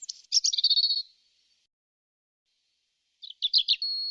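A robin chirps in a French children's Christmas story, two short bursts of bright, quick twittering separated by silence, close and clear with no talk over it.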